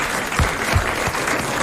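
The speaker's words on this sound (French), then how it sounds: "Alors, on applaudit cette bonne question qui vous a collé." A brief burst of television studio audience applause for a question, dense clapping from a crowd that holds steady throughout.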